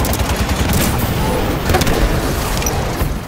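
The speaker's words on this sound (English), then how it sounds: "I do like the cannons on this thing, though." Wasp flying vehicle in Halo 5 firing its cannons, a dense, continuous burst of rapid gunfire with booming impacts that stays loud and unbroken throughout, with no talk over it.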